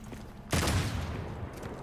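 A sudden burst of heavy gunfire erupts from a Devil May Cry 5 soundscape, a dense booming volley that holds loud and then slowly tails off.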